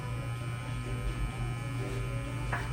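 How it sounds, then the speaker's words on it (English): A TPOB GO hair trimmer in all-white edition runs with the microphone removed, giving a quiet, steady electric hum and faint blade buzz that continues unbroken. "I took the mic off so you guys can actually hear the blade and hear how quiet this trimmer is"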